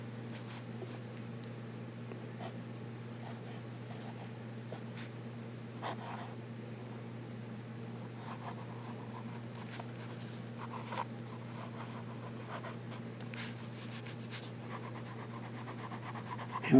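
A fountain pen with a 14K medium nib and Kujaku ink writing on paper, faint scratchy strokes in short irregular bursts over a steady low electrical hum, close and quiet with no talk.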